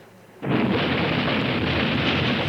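An explosion in the Nancy Drew game The White Wolf of Icicle Creek sets off a sudden loud, broad blast that becomes a sustained rumbling roar, continuing for a couple of seconds with no talk.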